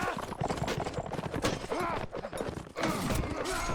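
Horse hooves clatter steadily through a dense, noisy melee in a medieval multiplayer battle game, where cavalry and infantry clash amid a constant din of combat.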